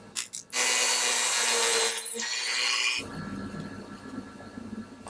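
A small power drill fitted with a 1/16 bit bores into a cast resin acorn, whining loudly and continuously for over two seconds before cutting off, leaving faint handling noises.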